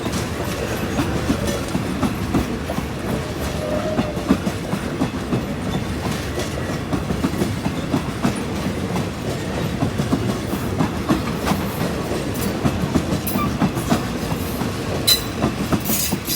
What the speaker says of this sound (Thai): ขบวนยาวเลยทีเดียวนะครับ